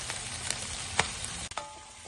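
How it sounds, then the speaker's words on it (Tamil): Clams frying with pepper in a pan for a Kerala clam fry, a steady close sizzle with occasional scrapes and knocks of stirring, no voices. "இந்த அளவுக்கு நம்ம ஃப்ரை பண்ணாதான் நல்லா இருக்கும்."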